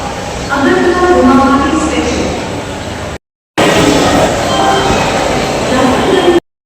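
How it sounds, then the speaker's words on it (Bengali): Saraighat Express standing at railway platform 1, heard as a loud, steady rumble of train and platform noise with a brief gap, close by and continuous, with a voice talking over it. "এই যে সরাইঘাট এক্সপ্রেস 1 নম্বর প্ল্যাটফর্মে।"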